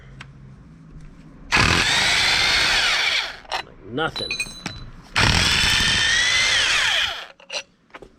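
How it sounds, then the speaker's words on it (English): A power tool loosens bolts on a VW MK4 TDI wagon's 02M transmission in two loud sustained bursts of about two and five-half seconds each, with brief clicks and quieter ratcheting between them. "Absolutely love power tools."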